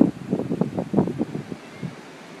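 Wind gusting during a Cape Cod blizzard in Marstons Mills, heard as irregular low buffeting rushes against the microphone, strongest early on and then easing to a softer rumble.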